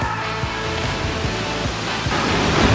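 Water rushes steadily at a waterfall in Lebanon, a dense, even roar that stays close and loud without a break.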